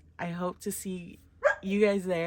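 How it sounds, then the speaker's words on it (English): A pet dog named Bruno barks and whines in short bursts at home, fairly close, overlapping a person who keeps talking. "Sorry about my dog. He's making a noise."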